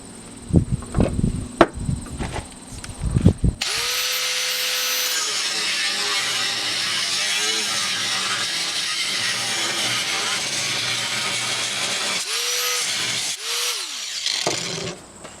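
A power tool cuts a piece off a metal bracket while a new tractor seat is being installed. After a few clanks of handling it roars into a long loud cut, stops briefly, then gives two shorter bursts.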